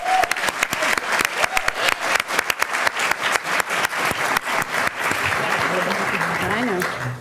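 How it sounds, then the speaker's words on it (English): An audience at a school district recognition ceremony breaks into applause, first as sharp separate claps and then as a sustained, fairly loud wash of clapping from many hands, with a voice speaking over it toward the end. "Give them another round of applause."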